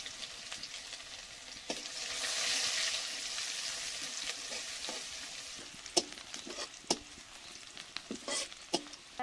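Garlic frying with whole cumin, bay leaf and chopped onion in a clay pot, a steady close sizzle with a swelling hiss and sharp spatters and stirring scrapes scattered throughout, no talk.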